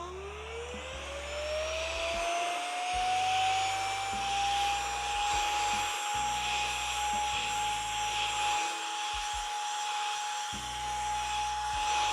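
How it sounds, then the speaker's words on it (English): A vacuum cleaner spins up with a rising whine and then runs loudly and steadily throughout at a model-kit hobby bench, with a few low bumps and knocks as it picks up debris. No one speaks. "Excuse the noise, I have to vacuum this up real quick."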